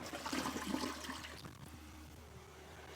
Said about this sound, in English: That was a flush.